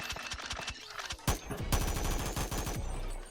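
Rapid bursts of SIG 522 Commando rifle fire in the VR game Bonelab, loud sharp shots fired in quick strings with a few isolated reports, no talking.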